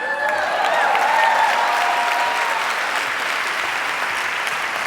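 Sustained audience applause at a talk on the future of human communication, loud and steady for about five seconds, with a few faint cheers or whistles near the start.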